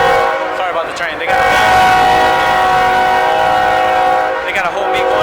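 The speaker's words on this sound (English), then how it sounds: "sorry about the train." A train rolls through downtown Houston at night, its loud multi-tone horn blaring almost continuously with the rumble of the cars beneath, close and dominating, with faint voices underneath.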